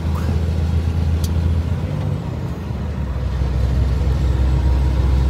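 Heavy highway traffic at km 45 of the Castelo Branco road, a continuous loud rumble of cars and trucks passing close by, with a brief air-brake hiss early on and no talk.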